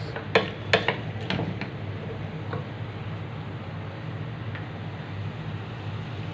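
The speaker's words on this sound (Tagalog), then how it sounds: "Igigisa ko muna yung chicken sa bawang, sibuyas at luya." Chicken sautéing with garlic, onion and ginger in a pan for tinola opens with several sharp utensil clinks against the pan. A low, steady frying hiss follows, close by, with no voices.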